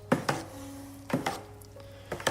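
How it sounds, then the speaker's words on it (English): A spoon or paddle scrapes and knocks against a pot while stirring a cornflake whiskey mash from the bottom up, giving three pairs of sharp scraping strokes over a steady low hum. "I'll just give it a bit of a stir from the bottom up with this."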